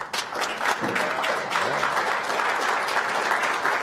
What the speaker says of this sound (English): You got a big cheering crowd here tonight for you